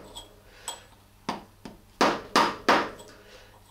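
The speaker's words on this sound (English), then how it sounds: "The easiest way to do that is with a little chisel. I've got a little cold chisel here." A cold chisel driven by a mallet bends back the lock tab on a Triumph Scrambler 1200 sprocket nut. Several sharp metallic knocks come close and fairly loud, the last three landing in quick succession.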